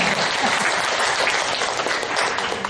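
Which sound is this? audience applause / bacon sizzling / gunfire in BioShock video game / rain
audience applause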